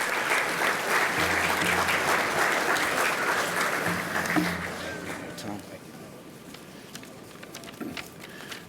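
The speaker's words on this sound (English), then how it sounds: "how about a big round of applause for Hank?" Audience applause at the Worcester Educational Development Foundation awards, dense clapping loud for about four seconds, then thinning out and fading into a quieter room with scattered claps.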